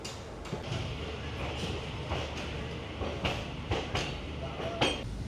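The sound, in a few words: train leaving Kolkata station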